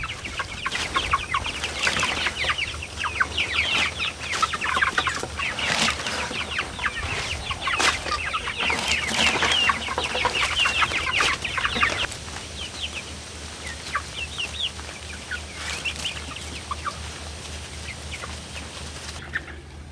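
Chickens clucking in a backyard flock near a greenhouse, with a rooster among them; steady overlapping clucks and chirps close by, busy for about twelve seconds and then thinning out, with no talking.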